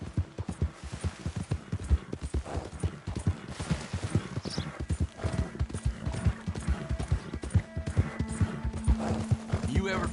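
Horse hooves clip-clop in a steady trotting rhythm through a Red Dead Redemption 2 scene, with an occasional neigh, while voices talk over the hoofbeats.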